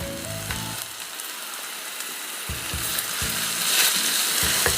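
Finely chopped tomato goes into hot oil with ground masala for Maharashtrian masale bhat, a bright continuous sizzle rising and swelling over a few seconds, with soft clinks and stirring scrapes close by.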